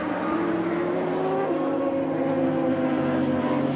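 Gary Goodfellow's race motorcycle, ridden by the 1985 Canadian 750 production champion, roars steadily at close range with a sustained high engine whine through a road race at Hamilton.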